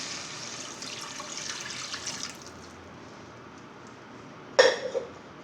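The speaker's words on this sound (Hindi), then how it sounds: "अब ये सारा आधा लीटर पानी जो मेरे पास है ये ऐड कर देंगे।" Half a litre of water poured into a cooking pot for vermicelli pulao, a soft pouring wash for about two seconds, then quiet, then a brief sharp splash near the end.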